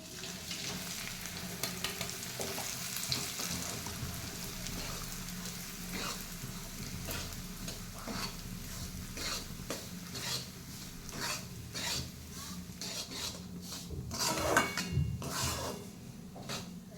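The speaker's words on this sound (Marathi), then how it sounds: "तूप गरम झालं आहे आता भगर घालूया याच्यात" Barnyard millet (bhagar) frying and being stirred in hot ghee in a pan, a steady close sizzle with scraping spoon strokes and occasional clinks against the pot, no talking.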